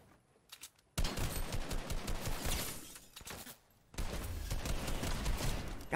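Rapid bursts of Fortnite gunfire crackle loudly in two long volleys separated by a short pause, dense and sharp.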